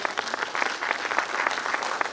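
Applause from an audience at a sales-company management speech in Assam, a steady, fairly soft patter of many hands clapping at a distance, continuous and even.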